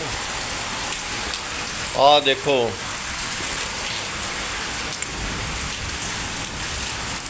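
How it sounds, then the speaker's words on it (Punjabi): Hailstones pour down in Punjab as a steady, dense hiss of impacts on the ground and surfaces, a continuous roar while one voice speaks briefly near the start. "ਗੜੇ ਤੇ ਗੜੇ ਡਿੱਗੀ ਜਾ ਰਹੇ ਆ"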